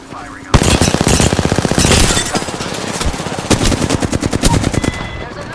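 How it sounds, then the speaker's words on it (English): Rapid automatic gunfire from a video game crackles loudly and continuously, a dense run of close, fast shots with brief uneven bursts and no gap between them. "Getting shot at."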